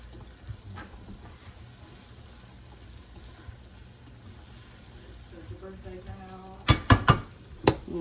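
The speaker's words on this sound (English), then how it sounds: "Stir this around." Shrimp scampi being stirred in a pan in a home kitchen, with faint scraping and sizzling under a quiet background, ending in a few sharp metallic clanks of utensil against pan.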